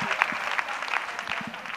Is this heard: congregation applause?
yes